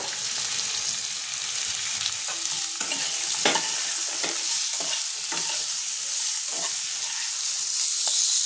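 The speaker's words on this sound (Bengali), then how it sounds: "এটাকে হালকা একটু ভেজে ভেজে নেবো" Green tomato pieces with salt and turmeric sizzle gently in a hot pan, with occasional scraping strokes of a spatula stirring them; steady, moderate frying with no voices.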